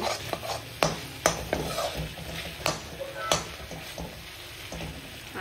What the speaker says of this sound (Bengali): এখন গিয়ে এটাকে আমি দেবো, জল দেবো